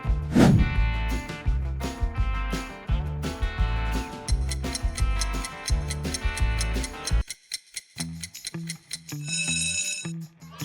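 A modern Sony phone ringtone plays as a bright, rhythmic melodic pattern with repeating tones, pausing briefly before a higher, lighter phrase closes it out.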